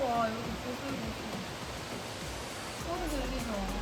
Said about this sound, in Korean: 비가 와. 여기 보슬보슬